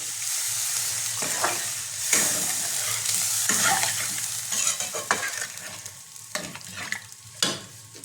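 Curry masala fries in oil in a pan, a close sizzle broken by repeated scraping strokes of a spatula that grow sparser toward the end, with no talking.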